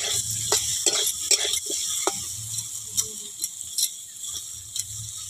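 Leafy greens fry in oil in a pan while a spoon stirs and mixes them, scraping in repeated sharp strokes over a constant close sizzle, with no talk.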